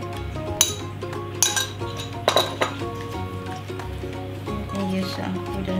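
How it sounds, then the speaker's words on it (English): A spoon scrapes and clinks against a bowl while mixing sausage pie filling with onion and apple, a handful of sharp irregular knocks close up over soft background music. "we're just gonna use a spoon and just mix it"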